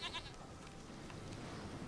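A goat bleats in The Witcher 3 role-play game, a single call near the start over a steady ambient bed of game background sound, with no talk.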